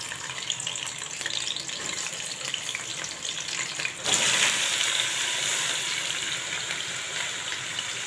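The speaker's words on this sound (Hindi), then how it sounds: "इन आलुओं को हम हल्का सा फ्राई कर लेंगे" Finely chopped potatoes fry in hot cooking oil in a pan, a steady bright sizzle throughout that grows louder and denser about halfway through, with no talking.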